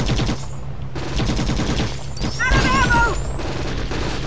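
Rapid automatic gunfire in the video game Conflict: Global Terror on PS2 rattles in dense bursts, with voices calling out over the shooting.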